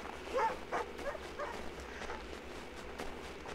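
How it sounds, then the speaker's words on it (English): A dog in the game Assassin's Creed III gives a few short, moderately near barks and yips over snowy outdoor ambience and faint footsteps, with no talking. "Sorry, I guess I scared the dog."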